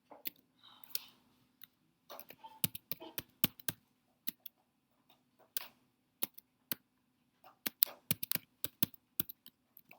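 Keys clack on a computer keyboard in a lecture room, with short irregular bursts of typing separated by quiet gaps and a faint background hum.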